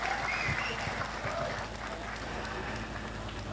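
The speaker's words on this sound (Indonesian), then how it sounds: "tepuk tangan untuk Bapak Ibu semua" Audience applause at a Pancasila commemoration gathering, a faint, steady wash of clapping from a crowd lasting a few seconds.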